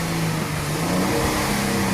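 A Chrysler 300's engine, just repaired after fault code P1004, revs up steadily for about two seconds, a close, continuous mid-range engine drone that rises in pitch, with no talking.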